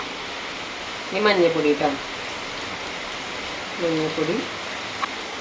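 Heavy rain pours steadily as a dense, constant hiss throughout, with a voice speaking briefly twice over it in a kitchen setting.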